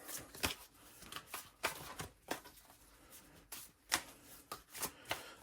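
Tarot cards are shuffled by hand in quick, uneven bursts of riffling and slapping, close and fairly quiet, about a dozen distinct shuffles over several seconds.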